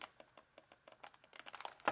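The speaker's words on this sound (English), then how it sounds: "That's the, the paper clicking, or that's the mouse clicking." Clicking of a folded origami paper computer mouse, a series of light, dry clicks at an irregular pace that quicken toward the end, close and quiet.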